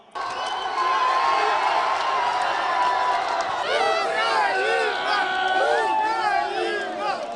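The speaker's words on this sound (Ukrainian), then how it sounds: "Щойна гра закінчується, натовп на майдані вибухає" Ukrainian football fans on a city square erupt after the match, a dense crowd of cheering and shouting voices that swells loud and stays continuous, with rising whoops standing out near the end.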